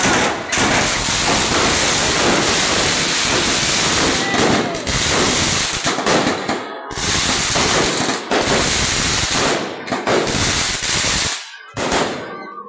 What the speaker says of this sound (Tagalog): Nagawa namin sa fireworks display sa may kalangitan